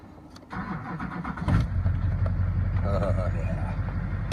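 A 2004 Chevy Duramax diesel pickup cranks briefly, fires up and settles into a loud, rumbling idle close by, with a voice speaking over the start.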